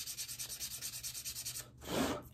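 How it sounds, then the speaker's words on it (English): Sandpaper rubs rhythmically over a bassoon reed, about a dozen quick close strokes, followed by a single short breathy puff. "So open it back up and sand like this."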